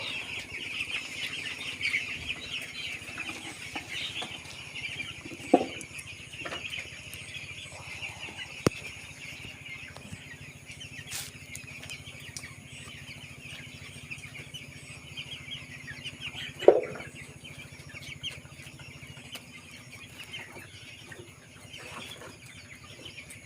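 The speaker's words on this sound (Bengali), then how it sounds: "এটা দেশি মুরগি বেরিয়ে গেছে" Desi hens cluck softly and sporadically at a distance on a poultry farm, faint calls over a quiet background hum with a few sharp clicks.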